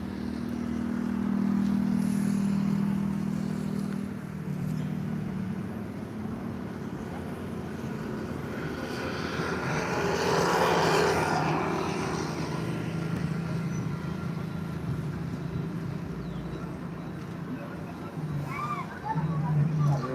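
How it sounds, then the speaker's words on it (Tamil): A school bus passes on a road, its engine swelling to a loud rumble and fading away over a busy outdoor traffic background, with people talking. "இந்த பஸ் தானே இப்போ போச்சு இப்போ போச்சு ஸ்கூல் பஸ்"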